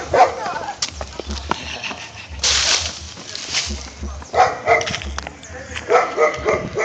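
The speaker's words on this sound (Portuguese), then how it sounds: "Cachorro enorme, ó." A large dog barks repeatedly in short, uneven bursts at a family gathering, fairly close, with people talking around it.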